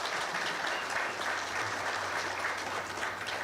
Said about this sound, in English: Can we please give them a round of applause?